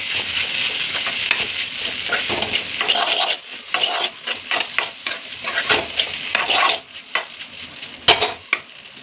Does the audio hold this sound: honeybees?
no